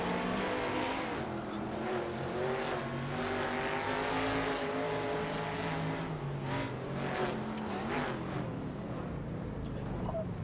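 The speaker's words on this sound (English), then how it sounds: "Heel toe downshift." A modded Camaro Trans Am race car at Winton in the Assetto Corsa driving game: loud, continuous engine roar with rising and falling revs from blipped downshifts, tyres squealing at moments, and someone talking over it throughout.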